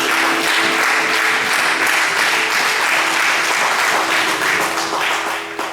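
Congregation at a French-language church seminary service applauding continuously, a dense, loud wash of many hands clapping throughout, tapering slightly at the very end.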